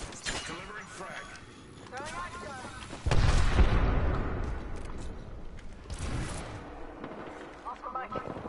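A frag grenade goes off in Apex Legends with a heavy, booming blast that rumbles and fades over a few seconds, followed by a lighter secondary burst, while voices talk around it.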